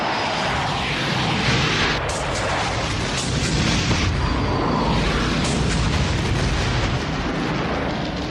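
Film battle sound of aircraft bombarding a jungle hill held by Vietnamese troops, a continuous heavy roar of engines and explosions with no pauses, dense and loud throughout.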